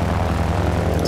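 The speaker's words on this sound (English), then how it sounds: "Let's take the plane. There are enemy planes in the air." A propeller plane engine drones steadily in Battlefield 1943, a close, constant hum with a low tonal rumble throughout the short stretch.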